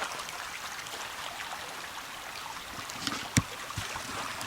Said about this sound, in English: Now I'm down here by the creek